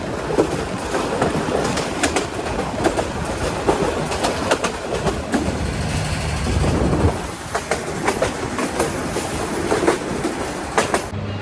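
The Agnibina Express intercity train passes straight through Tongi station without stopping, its wheels keeping up a steady, loud clickety-clack rumble with faint squeals throughout.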